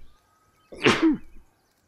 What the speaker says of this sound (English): Sneeze attack.